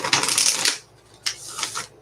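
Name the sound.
shuffling tarot cards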